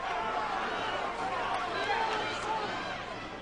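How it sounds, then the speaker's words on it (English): A Sheffield boxing crowd roars in support of local fighter Clinton Woods, a dense, sustained wash of cheering and hubbub that holds steady throughout. "now the Sheffield crowd get behind him"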